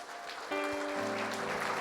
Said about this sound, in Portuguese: Vamos aplaudir o Rei dos Reis